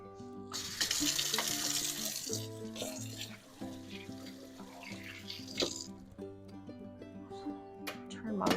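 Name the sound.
washing hands under running kitchen tap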